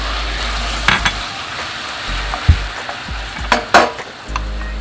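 Cream goes into a pan of melted garlic butter for mashed potatoes, with a steady soft sizzle and a few light clinks and scrapes of a utensil against the pan.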